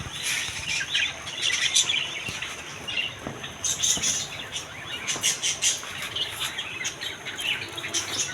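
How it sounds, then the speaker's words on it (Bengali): Budgerigars and lovebirds chirping at a crowded bird market, a dense wash of high, rapid tweets and squeaks from many birds, continuous and fairly loud at close to middle distance. "পেয়ে যাবেন বাজরিকা পাখির বাচ্চা আর এর দিকে পেয়ে যাবেন ফুল সেট আপের বাজরিকা পাখি"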